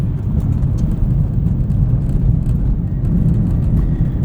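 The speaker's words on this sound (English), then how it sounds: "This is a pretty rough section of road, and I'm very impressed at how well these tires work with the suspension to filter out a lot of the small washboard" A 2003 Lexus IS 300 with a manual gearbox rolls on Blizzak WS-90 winter tires over rough, washboard road: a steady low rumble of road and tire noise with faint rattly thumps throughout, heard from inside the cabin.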